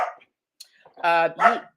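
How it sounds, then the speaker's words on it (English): A pet dog gives two short, sharp barks close by in an indoor room, following a brief faint sound at the start. "Toby, don't mind my dog, y'all."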